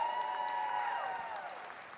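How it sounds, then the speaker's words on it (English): An audience gives a round of applause during a talk, a steady wash of clapping with whoops and rising-falling voices riding on top, loud and continuous for its full length. "how do we feel now by a round of applause?"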